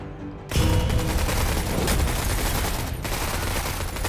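Silenced guns open fire in the tactical game Menace, a sudden, continuous loud clatter of suppressed shots that holds steady for several seconds with a brief dip partway through.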